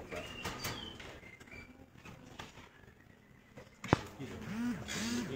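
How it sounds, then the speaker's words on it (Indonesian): A black oriental magpie-robin sings near and fairly faint, with short whistled phrases and chirps scattered through background noise, a sharp click partway and a repeated arching call near the end. "Ini namanya adalah Kacer Black yang lagi booming bos."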